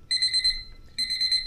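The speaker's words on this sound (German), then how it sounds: "Ja, das passiert, wenn man seinen Wecker auf laut stellt, statt nur auf stumm, wie er sonst immer ist." An alarm clock rings loudly in two bursts of rapid, shrill, repeating beeps separated by a brief pause, with no talking.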